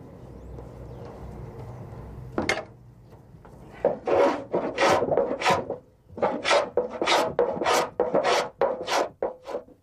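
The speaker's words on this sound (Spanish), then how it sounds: "La purimentación del tonel la hace nuestro amigo pasando un cepillo normal de carpintero y la rasqueta de pulir" A cooper works a wooden wine barrel with a carpenter's plane and a polishing scraper, a run of rhythmic rasping strokes, sparse at first and then quick and regular, loud and close.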